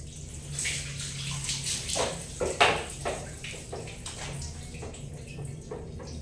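Cold water splashes over hair during a bath in a home bathroom, coming as uneven pours and splatters with a running-tap gurgle and no talking.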